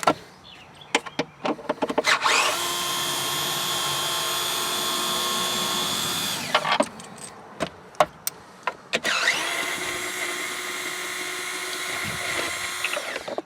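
A Torx bit drives out the windshield bolts on a 2020 Jeep Gladiator in two sustained whirring runs, with sharp metallic clicks and taps in the pauses between them.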